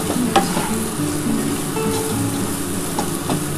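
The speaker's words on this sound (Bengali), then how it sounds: "যতক্ষণ দেখবে পেঁয়াজটা ব্রাউন কালার হয়ে না যাচ্ছে ততক্ষণ কিন্তু তোমরা এইভাবে ভাজবে" Onions frying in oil for a fish kalia with potatoes, stirred steadily while they brown: a loud, continuous sizzle with scraping stir strokes and occasional clinks throughout, no voices.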